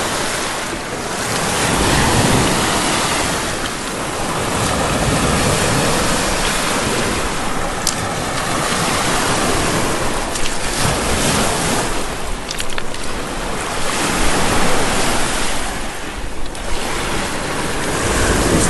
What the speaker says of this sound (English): Wave rinsed it off for me just one time.